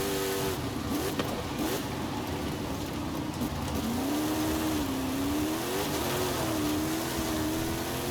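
An off-road car's engine in Forza Horizon 5 drones steadily throughout, its pitch wavering and rising as it revs and accelerates over rough ground, loud and continuous with no talking.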